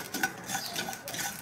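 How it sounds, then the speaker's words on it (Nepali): Two spoonfuls of mustard seeds roast in a pan for mango pickle while a spoon stirs them, giving close scraping swishes and light crackles with no talk. "एकैछिन भुटेपछि यसमा मैले 2 चम्चा तोरीको दाना पनि एड गर्दै छु।"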